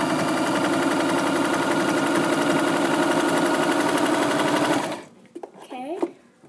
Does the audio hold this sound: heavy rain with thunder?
no